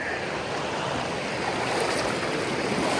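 Someone wades across a shallow river while metal detecting for gold. Steady rushing and splashing water fills the whole stretch at an even, moderate level, with no voices.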